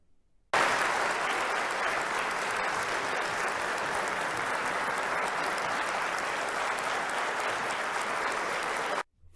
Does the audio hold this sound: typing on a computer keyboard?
no